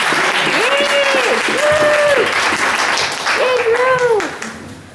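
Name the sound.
audience applause after a poem reading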